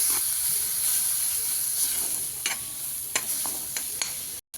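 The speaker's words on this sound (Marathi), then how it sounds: "आता आपण ह्याच्यात खोबरं टाकून घेऊ आपण खोबरं टाकून घेतलेलं आहे आता थोडंसं हलवून घेऊया लाल होईपर्यंत" Grated coconut being stirred in a hot pan of oil while making an egg curry, a steady close sizzle with a few sharp scraping strokes of the spatula.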